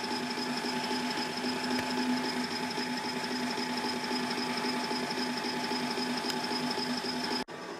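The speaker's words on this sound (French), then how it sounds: "Et percez. Effectuez le perçage délicatement." A drill press drills a workpiece with a steady, even mechanical whir and hum, running continuously with no pauses before a brief click near the end.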